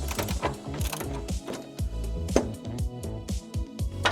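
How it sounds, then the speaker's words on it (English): Ratchet wrench loosening the long inboard bolt of a Mazda Miata front control arm: a fast, steady run of close, crisp pawl clicks in repeated bursts, with short pauses between strokes and no talk. "Now we loosen the inboard long bolt."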